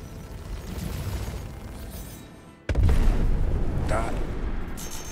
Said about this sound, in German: Da ist er dann auch schon explodiert.